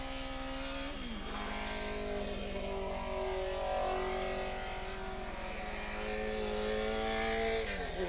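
Racing motorcycles roar around the Willow Springs track at a 1986 Formula USA race, with engines revving and shifting through gears, rising and falling in pitch as bikes pass, heard steadily from trackside.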